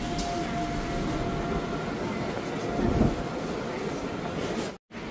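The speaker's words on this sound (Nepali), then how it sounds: "हामी ट्रेनमा छौँ" Steady rumble and rushing noise of a moving train carriage, constant throughout with a brief dropout near the end.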